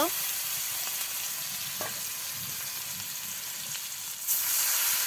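Chopped onion frying in a pan for a village-style garlic chili dish, a steady broad sizzle running throughout at moderate level with a few brief clicks and a slight rise near the end.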